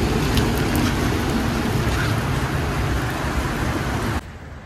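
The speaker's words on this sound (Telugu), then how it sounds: "ఇక్కడ ఫుల్ వర్షం ఉంది" Heavy rain pours down outdoors in Hyderabad, a dense, steady hiss and patter that stays loud and unbroken for several seconds before dropping off abruptly near the end.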